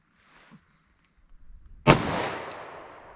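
A single sharp, loud gunshot from a 10mm pistol firing a Buffalo Bore round over a chronograph cracks out and rings off into a decaying echo, preceded by faint handling noises.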